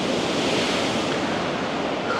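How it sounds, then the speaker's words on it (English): Sea waves splash against the Brighton seafront in a dense, continuous roar of surf mixed with wind buffeting the microphone, loud and close. "There's a lot of sea splashing up here."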